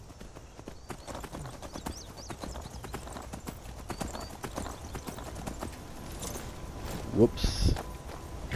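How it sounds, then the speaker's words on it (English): Horse hooves clip-clopping in Skyrim as the horse runs off, a steady run of hoof beats with a brief neigh near the end, while a voice speaks briefly. "And then my horse proceeds to run away."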